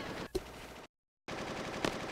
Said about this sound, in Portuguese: O Zéu tá trocando tiro, não?